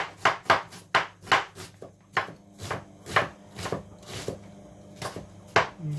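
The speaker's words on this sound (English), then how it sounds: "Slice that way. Slice this way." A knife slices an onion on a board while making spicy tomato soup, giving about a dozen crisp, close cuts in a steady, slightly uneven rhythm with no talking.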